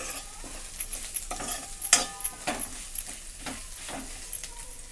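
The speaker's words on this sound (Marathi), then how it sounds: "आता मटकी पण आपल्याला छान असं ह्याच्यासोबत मिक्स करून घ्यायचे" Moth beans being stirred into a frying green chilli mixture in oil, with intermittent scraping strokes and soft sizzle, close by with no talking.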